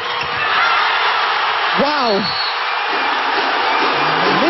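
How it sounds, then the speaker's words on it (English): Loud crowd roar from UST fans at a university women's volleyball match between DLSU and UST, a sustained dense wash of cheering and whoops filling the whole stretch, with a commentator's exclamation rising over it. "Listen to the roar of that UST crowd"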